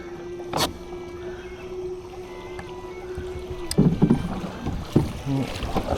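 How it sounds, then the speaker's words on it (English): Kayak zooming through creek rapids, with steady rushing water and a faint hum, then splashing paddle and water bursts near the end, close and moderately loud. "you just go zooming through these rapids here"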